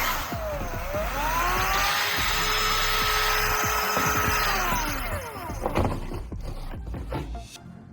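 A power drill fitted with a screw spins a homemade egg beater, a steady whine that rises, holds for several seconds and then winds down, followed by clattering handling sounds.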